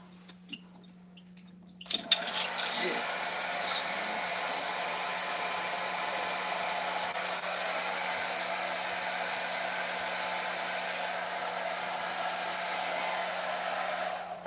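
A mother's hair dryer switched on at the hot setting, a steady close whooshing roar of air and motor hum that starts abruptly after a brief quiet moment and runs continuously and evenly.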